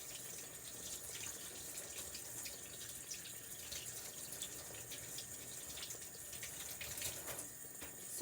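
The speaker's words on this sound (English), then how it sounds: "Now I'm going to wash my hands all over again with some soap." A kitchen tap runs steadily while hands are washed with soap during cooking, a faint continuous water hiss with small splashes and no voices.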